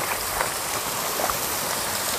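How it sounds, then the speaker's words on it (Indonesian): A waterfall pours into a river pool at a tropical waterfall site, a steady rushing and splashing of water heard close by at moderate loudness, with no voices. "Leuwih itu seperti kolam yang ada di sungai ya, tapi tetap dia punya aliran air terjun."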